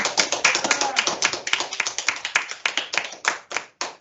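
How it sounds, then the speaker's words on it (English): Applause from an audience after group student presentations, a steady run of many hands clapping close and loud, thinning into a few scattered final claps near the end. "one more round of applause for everyone"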